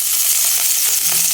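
Chopped garlic and onion sizzle loudly in hot oil in a pan while being sautéed for pata kare-kare, a steady close frying hiss with faint stirring and no talk.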